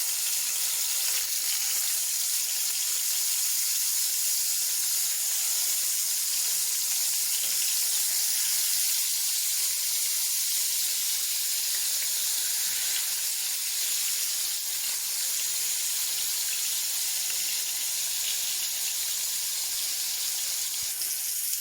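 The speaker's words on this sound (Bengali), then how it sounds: "এই তো মাছটা এখন ভাজা হয়ে গেছে।" Pieces of rohu fish fry in hot oil in a pan, giving a steady, loud, hissing sizzle that holds evenly for the whole stretch with no voices.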